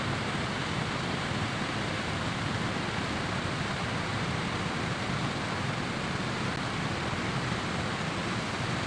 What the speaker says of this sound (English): You can hear, that's a waterfall next to me.